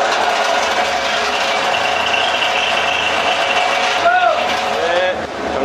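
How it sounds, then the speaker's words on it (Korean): Fire pump starting up for an overload test run in a building's fire protection system, a loud steady machinery drone with a tonal whine that shifts near the end. "과부하 운전 하겠습니다. 펌프 기동."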